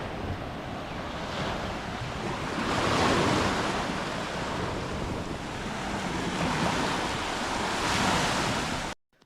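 Steady surf washes onto an isolated island beach on Egmont Key, a broad continuous roar of breaking waves with gusting wind noise across the microphone, swelling and easing without a break and with no talk.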